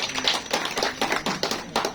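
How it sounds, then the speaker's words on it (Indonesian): A handful of people clap for a speaker at a discussion panel, giving sparse, uneven handclaps in a loose rhythm, moderately quiet and with no talking over them. "Kita berikan tepuk tangan kepada beliau."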